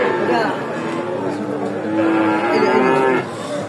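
A Friesian heifer calf, about five to six months old, moos loudly and at length at a cattle market, with people chattering in the background.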